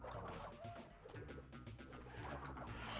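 Birds coo softly in the Crash Bandicoot 2 game, low repeated calls mixed with in-game ambience and background music, fairly faint.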